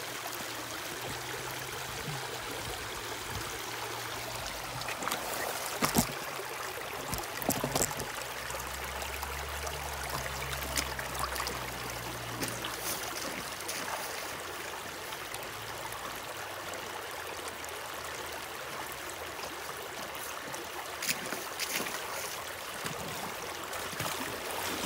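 Water running steadily through a gold prospecting sluice in a North Carolina stream, a continuous soft rushing and trickling that holds level throughout with a few brief clunks, no talking.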